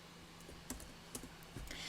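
Computer keyboard typing in a quiet room, a few soft, scattered key clicks with small gaps between them.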